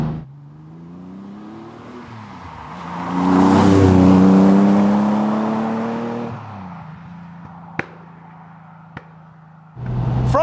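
A TVR Tuscan S with a Speed Six engine revs up, its tone climbing to a loud, harmonically rich peak before easing back to a steady drone, followed by a few sharp clicks and a fresh burst near the end.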